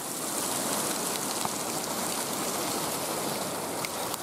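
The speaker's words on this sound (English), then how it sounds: "Man, is it raining." Heavy rain pours down steadily, a dense, continuous hiss of drops close by with no voices.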